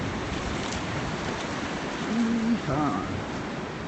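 Ocean waves wash onto a beach in a steady, even roar of surf, with a brief faint tonal sound partway through and no talk.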